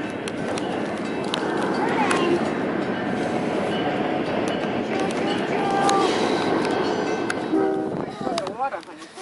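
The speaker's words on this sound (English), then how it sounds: "Here comes the train." A train rumbles steadily past nearby, with pigeons cooing and people calling out faintly in the background.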